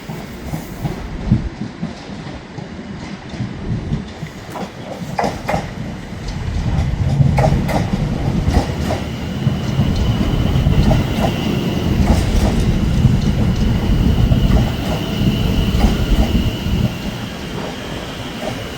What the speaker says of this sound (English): this is one of London North Western Railway's newest trains